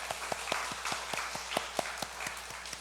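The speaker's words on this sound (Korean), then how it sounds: "우리 박수로 한번 환영할까요?" A congregation at a Sunday church worship service claps in welcome, a steady, evenly paced run of claps over a broad wash of room noise.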